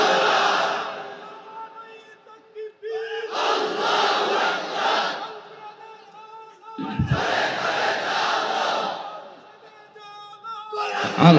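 A large crowd at an Islamic religious sermon gathering loudly chants the slogan Allahu Akbar in unison, in long sustained swells that rise and fade in three waves, with a hall-like echo.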